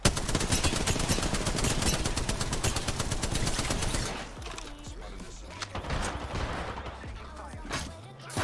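Heavy rapid video-game gunfire rattles steadily for about four seconds and then gives way to sparser shots and quieter game sounds with brief talk.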